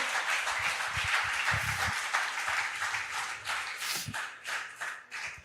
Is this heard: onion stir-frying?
no